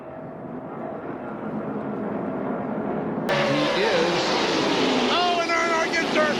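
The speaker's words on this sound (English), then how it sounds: "Major crash here on the front stretch." NASCAR stock cars wrecking on the front stretch at Talladega, a loud roaring rush of engines and crunching impact noise that swells and turns harsher partway through, with commentators talking over it.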